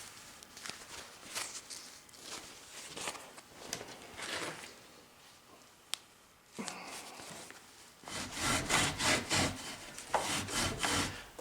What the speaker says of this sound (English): working the hide back and forth over your edge